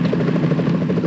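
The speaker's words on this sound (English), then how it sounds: "Is that a chopper I just heard?" Helicopter in the video game Metal Gear Solid 2: a steady, loud rotor drone with a pulsing chop running continuously, close and dominant, with no voices over it.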